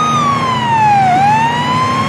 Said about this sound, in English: I have a siren on. This is an emergency.